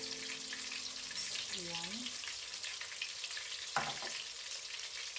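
Tortang dilis, an anchovy omelette, frying steadily in a pan with a continuous bright sizzle, a short spoken word near the start and a single clack of a utensil partway through.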